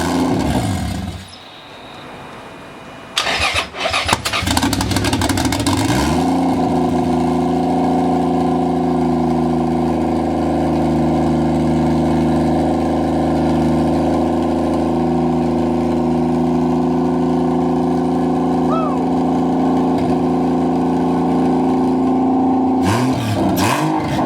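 Nissan 180SX with a swapped 2JZ engine cranking, firing up and settling into a loud, steady close idle that runs without revving for about twenty seconds before cutting off.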